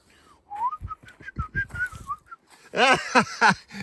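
A person whistles a wavering melody alone, with a few breathy notes, then a louder burst of rising, bird-like whistled phrases near the end.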